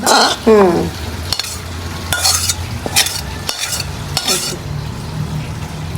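Winter flat beans (shim) frying in a hot pan while being stirred, with close scraping strokes of a utensil, clinks against the metal and a steady sizzle underneath; a brief voice is heard at the start.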